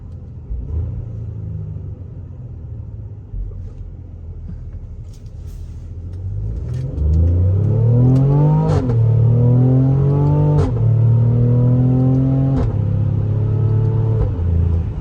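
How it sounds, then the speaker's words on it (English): A Mercedes-Benz AMG GLE43 with a 9-speed transmission rumbles at idle, then its engine revs up sharply on a manual downshift. The rise in pitch is loud and close, followed by a sustained, throaty drone. "we're just going to downshift a little bit. I'm not going to floor it, but I'm going to give it some gas"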